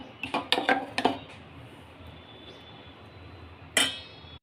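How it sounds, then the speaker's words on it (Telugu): Poha dosa batter being mixed in a bowl: a quick run of clinks and soft wet scrapes, then a quiet stretch and one final clatter, close up with no talking. "సేమ్ మనం దోశకి ఎలా కలుపుకుంటామో అలాగే కలుపుకోవాలి"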